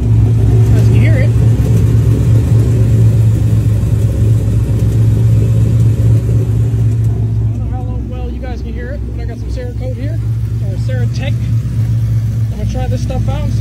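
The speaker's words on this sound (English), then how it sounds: "I just got the typewriter tick." A 2017 Ford Mustang GT with its Coyote engine, suffering a typewriter-style tick, runs close by with a steady low idle rumble throughout, while voices murmur faintly over it in the second half.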